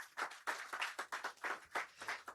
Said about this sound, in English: Please encourage him with a round of applause.